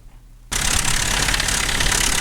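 A 1993 Toyota pickup's 22RE engine, worn and in need of a timing chain, starts running after a brief quiet moment and keeps a steady, loud, rough idle with a rattling undertone close by.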